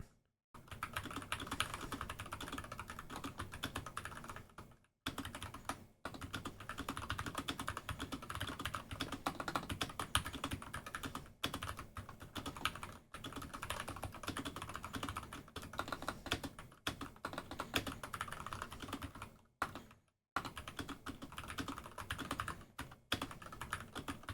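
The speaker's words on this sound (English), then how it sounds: "I love typing. I can type so quick." Rapid, continuous clacking of keys on a computer keyboard during a TypeRacer speed-typing race, steady and close with only a few brief pauses.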